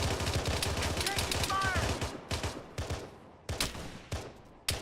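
Rapid bursts of gunfire in the military video game ARMA 3, dense and loud at first, then thinning into separate sharp shots and short volleys, with players talking over the firing.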